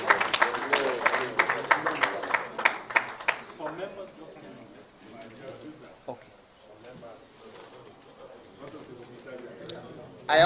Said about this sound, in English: Mr. Chairman deserves a more resounding round of applause.